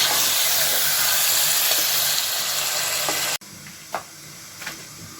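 Onion, garlic and ginger fry in oil over a medium flame, giving a steady broadband sizzle that drops sharply partway through, followed by a couple of brief stirring clatters.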